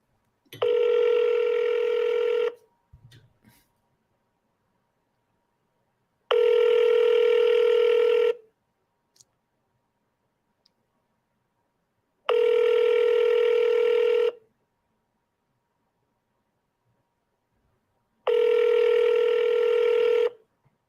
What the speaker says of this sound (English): we're going to do the double dial on these